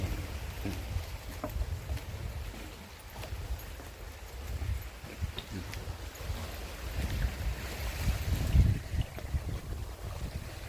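Seaside waves at Khao Laem Ya beach wash in a continuous, rough surge, with wind gusting against the microphone and a brief louder burst near the end.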